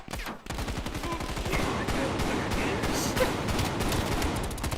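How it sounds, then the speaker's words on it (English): Rapid automatic gunfire from the video game Call of Duty: Black Ops Cold War, a fast, loud, continuous burst of shots that runs almost the whole time. "You shot like 6 shots at the floor."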